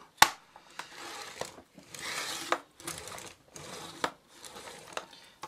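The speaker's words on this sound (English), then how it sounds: "we're going to cut this to 10 inches along" Purple cardstock gets cut to size for a card base, with a series of crisp snips and slicing scrapes in irregular bursts, one sharp click near the start, close and moderately quiet.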